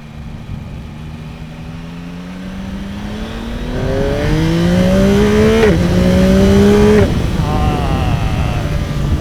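A 2024 Yamaha MT-09 with an acoustic amplifier intake revs up through several gears, pitch climbing and dropping at each shift, one shift without the quickshifter engaging, growing louder and close by.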